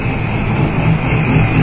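A car engine idles during ignition diagnosis in a workshop, a steady close low rumble with a constant broadband hum and no talk over it.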